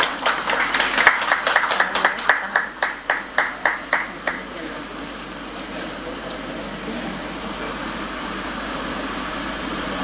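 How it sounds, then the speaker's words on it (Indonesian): Audience applause at a formal government ceremony in Indonesia: a burst of rhythmic clapping that thins into a few spaced claps and fades within about five seconds, leaving room hum. "Boleh kita berikan tepuk tangan sekali lagi?"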